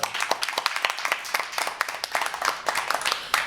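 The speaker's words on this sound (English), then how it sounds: "Round of applause for Sarah." A modest audience gives a short round of applause for Sarah after a sales talk, irregular distinct claps in a room with no voices over them.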